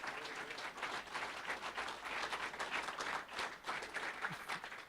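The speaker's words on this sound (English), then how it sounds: "I'd like to do one more round of applause for the girls coming all the way from Boulder, Colorado." Steady applause from an audience at a 1 Million Cups startup presentation event in Springfield, sustained and dense clapping that continues evenly throughout with no talk over it.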